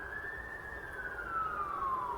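A single emergency siren wails in a long tone that slowly falls, heard from a distance over low traffic rumble near an allotment fire.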